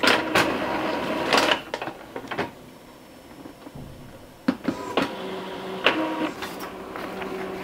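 An Epson EcoTank L3250 inkjet printer prints a page: sharp mechanical clicks and whirring carriage passes in irregular bursts, with a quieter stretch in the middle and then further rattling feed and head movements, heard close up without talk.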